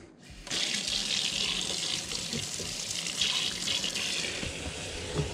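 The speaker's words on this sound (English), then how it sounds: "Let me turn the hot water on in the sink just to make sure we get some flow." Hot water runs steadily from a sink faucet during a dishwasher installation in a barndominium, a constant close hiss of flowing water that starts abruptly and continues without pause.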